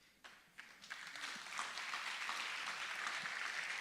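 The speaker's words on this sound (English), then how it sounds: "Definitely clap for that" An audience at a city's State of the City event breaks into applause, starting with a few scattered claps that swell within about a second into steady, moderately loud clapping from a crowd.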